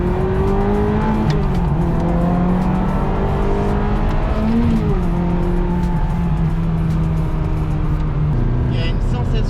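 Ferrari F355 Challenge engine in stock condition accelerating, a loud rising and falling engine whine through the gears heard from inside the car, with someone talking over it.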